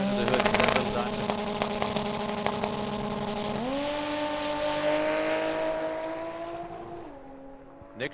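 A small turbocharged four-cylinder Datsun pickup with a large 82 mm turbo drag racing an eighth-mile strip, its engine note loud and steady, then climbing in pitch and holding a sustained high rev before easing off near the end.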